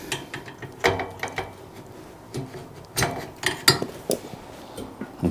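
A metal cotter pin pushed through the wheel of a WEN 14,500-watt tri-fuel generator during assembly, giving a few close, sharp metallic clicks and scrapes scattered across several seconds.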